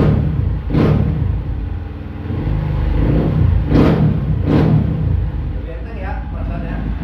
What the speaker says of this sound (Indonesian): Coba bang, geber-geber bang.